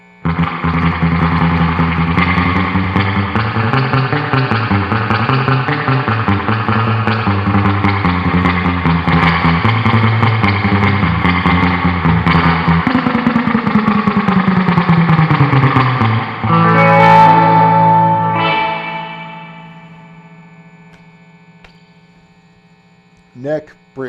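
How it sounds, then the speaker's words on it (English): Electric guitar with Mosrite-style neck and bridge pickups at full output through heavy reverb, playing sustained, effect-laden notes that shift steadily, then ring out and decay, with a last soft pluck near the end. "Neck, bridge, full output,"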